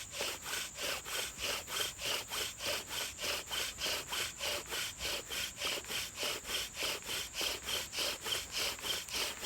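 A bow drill spindle is bowed back and forth against a wooden fireboard, making a steady, rhythmic rasping like sawing. Even strokes repeat about two to three times a second, close and moderately loud.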